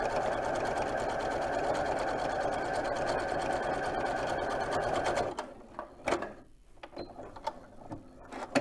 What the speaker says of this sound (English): don't stretch your fabric as you're sewing